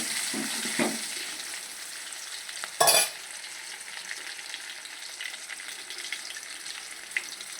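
Curry leaves and onion frying in a pan, a quiet steady sizzle with a loud clattering scrape near the middle and a few faint taps, no one speaking.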